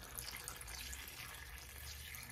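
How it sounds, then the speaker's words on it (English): Water streams steadily into a cooking pot of Jamaican curry goat, a continuous close rushing pour with no pauses. "Let's get some water into this."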